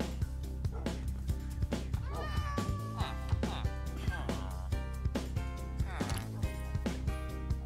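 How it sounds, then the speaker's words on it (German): A Minecraft cat in a medieval-themed world meows several times in short, close calls. The meows sit over steady game background sound. "Oh, Katze."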